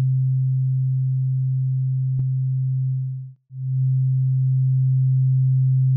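Two identical sine test tones hum as one steady low tone, with a brief click and a short dip where they nearly cancel out before returning.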